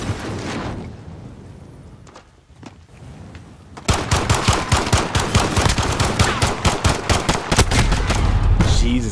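Bursts of rapid automatic gunfire in a one-on-one video game gunfight, FAL rifle in play: quieter scattered shots at first, then a loud, sustained string of close shots hammering steadily to the end.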